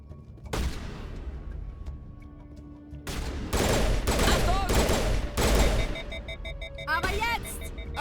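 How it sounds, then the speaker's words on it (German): Loud, heavy gunfire fills a Mass Effect firefight, with sustained volleys and overlapping shots rising in intensity, broken by short lulls and occasional game voices. "Achtung, Beschuss!"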